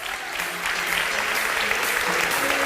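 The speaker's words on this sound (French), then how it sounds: "Vous pouvez l'applaudir." An audience at a French beauty pageant election applauds a guest being introduced, with steady, full clapping that swells slightly and holds throughout.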